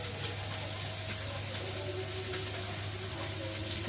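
Fish frying in a pan of hot oil gives a steady, even sizzle that runs unbroken throughout, with a low constant hum beneath it.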